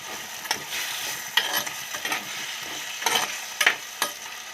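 Tomato and onion being stirred in a hot pan while they sauté for a spicy Tamil fish curry; soft sizzling runs throughout, with a few scraping spoon strokes at irregular intervals, close and moderately quiet.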